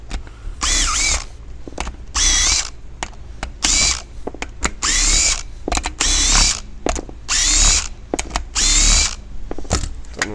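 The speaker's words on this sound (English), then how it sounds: "So we're just using a drill for this one" A power drill whirs in repeated short bursts while removing bolts from a Ski-Doo 850 Turbo snowmobile, several loud spins with brief pauses between, close up and without talk.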